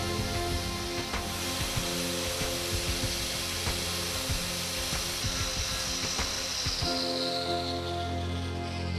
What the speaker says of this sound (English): the material is sanded down 1 mm over a width of barely 20 mm at both ends